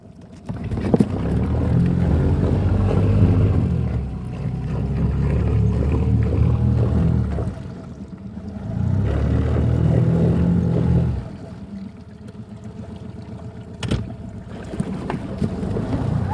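A boat ride on open water, with a low motor drone and wind buffeting the microphone that swell and ease in long waves, and no voices.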